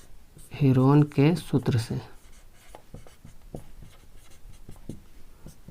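Chalk or marker writing on a classroom board during a Hindi math lesson, with short scratchy strokes that follow a man's speech and continue faintly on their own.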